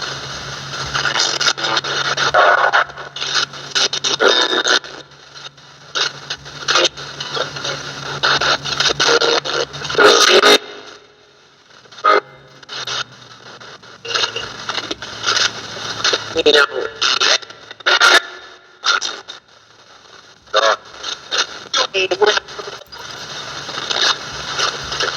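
Harsh static from an RTC Ghost Box radio sweeping in rapid choppy bursts, stations flicking past in broken fragments, loud and continuous with brief gaps of quiet.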